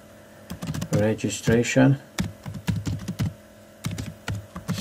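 Clicky computer keyboard keys tapped in short bursts while a project name is typed, the keystrokes coming in irregular clusters as a person talks over them.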